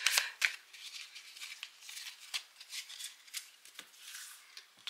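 Tarot cards are shuffled and handled in soft papery swishes and flicks, close and quiet, with a few sharper snaps at irregular intervals.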